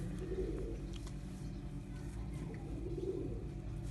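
Pigeons kept by a fancier coo in low, steady murmurs throughout, with a constant soft background hum and no talk over them.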